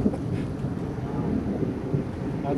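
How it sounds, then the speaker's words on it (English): Thunderstorm during a tornado-producing outbreak in western Minnesota, heard as a steady low rumble of wind and distant thunder that carries through the whole stretch. "That's the storm."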